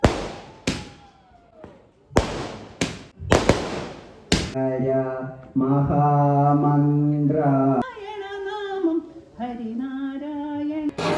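A quick series of sharp firecracker bangs at a New Year programme opens, then gives way to loud sustained tonal music.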